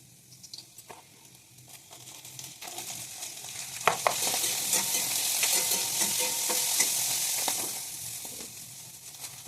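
Beans frying in a pan with salt, a steady close sizzle that swells after a few seconds into a dense, continuous hiss, with occasional stirring scrapes and light pops along the way.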